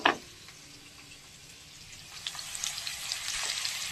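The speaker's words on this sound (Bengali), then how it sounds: "দেখুন বন্ধুরা আলু ভাজা ভেজে নিচ্ছি" Potatoes fry in hot oil, starting as a faint, quiet sizzle that grows into busier crackling and popping over a few seconds after a short knock at the start.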